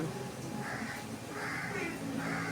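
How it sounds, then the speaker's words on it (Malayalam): Three harsh crow caws repeat at a steady pace over a constant background hum, moderately near and clear. "ആ കാക്ക"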